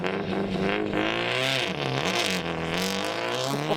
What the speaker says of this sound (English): I love the sound of Subarus